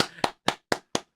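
Five sharp hand claps in a steady, evenly spaced rhythm, close and loud, each crisp and quickly decaying, with no talking.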